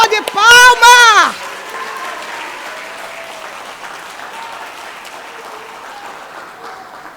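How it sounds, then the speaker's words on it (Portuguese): A church congregation applauds in a broad, steady wave of clapping that lingers and slowly tapers off, following a brief loud shout from a preacher at the start. "Dá uma salva de palmas."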